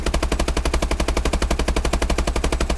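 Bal-27 assault rifle in Call of Duty: Advanced Warfare firing a steady, rapid full-auto burst, loud and close, with evenly spaced shots running the whole time and no talk.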